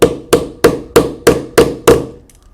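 Seven even, sharp hammer strikes ring out one after another as a metal snap is set into a leather wristband on an anvil, close and clear with no talking, followed by a faint tail.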